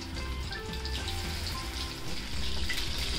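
Chicken lollipops deep fry in hot oil with a dense, continuous bubbling sizzle that grows slightly louder toward the end; no voices.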